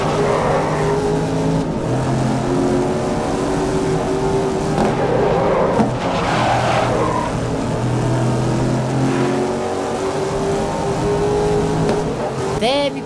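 A race car in GRID (2019) roaring continuously at high revs, engine pitch rising and falling through gear changes with occasional tire squeal, loud and close, with a voice talking over it.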